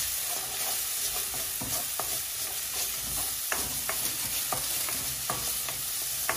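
Onions and garlic sizzle in freshly topped-up oil for chicken chow mein, a dense, close frying hiss punctuated by sharp clicks and scrapes of stirring, with no voices.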